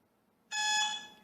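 A single electronic calibration beep from a G-Sight Gen 3 laser dry-fire trainer, a bright steady tone sounding alone in a quiet room and holding for under a second before fading.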